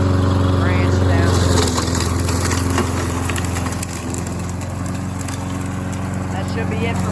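A lawn mower runs steadily while an ATV trail is cleared through the woods, its engine a loud, close, unbroken drone with a harmonic hum from start to finish.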